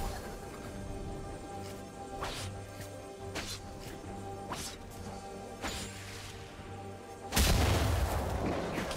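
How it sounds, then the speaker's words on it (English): A turret is destroyed in League of Legends: a sudden loud, crashing explosion bursts out near the end, over busy game sound effects, scattered whooshing hits and a steady musical background. "Blue team's turret has been destroyed."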